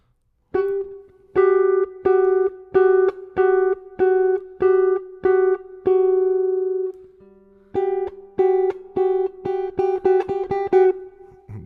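A minor second interval: two close, clashing tones played repeatedly as short plucked or keyed notes, about a dozen in a steady rhythm, with a brief pause midway, no voices.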